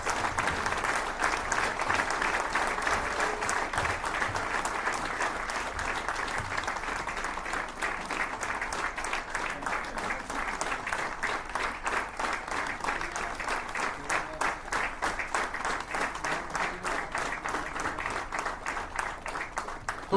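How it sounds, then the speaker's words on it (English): Large audience applauding at a regional corporate conference award ceremony for a CEO of the Year honour, a dense, steady wash of many hands clapping that holds loud and continuous throughout. "Please join hands to give a very big clap"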